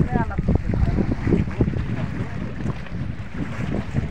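A motor trawler boat out on the water gives a steady low engine rumble, with wind buffeting the microphone and voices talking faintly underneath.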